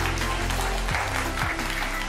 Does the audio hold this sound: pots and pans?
no